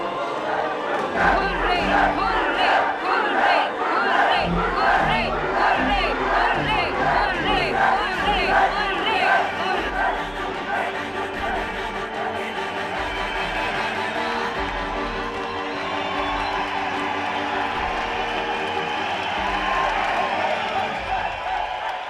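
A large gathered crowd fills a Tamil film scene with a dense, steady roar of many voices, chatter and shouts, loud and continuous throughout.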